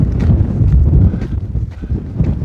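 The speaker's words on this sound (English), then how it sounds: "it's a little bit too windy" Strong wind buffets the microphone outdoors near a small village along the Pennine Way, a loud low rumble with gusts rising and falling throughout, no talking.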